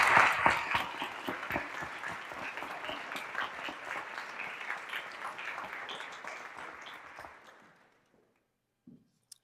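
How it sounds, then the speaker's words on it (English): Audience at a school recognition ceremony gives a big round of applause for athletes, a loud burst of clapping that gradually fades out over several seconds into near silence. "Please give them a great big round of applause."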